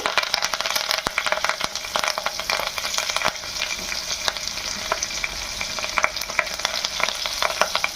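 Tomato pieces and curry leaves fry in a pan for tomato chutney, a dense close sizzle broken by frequent clicks and scrapes of a spoon stirring, steady and fairly loud throughout with no voices.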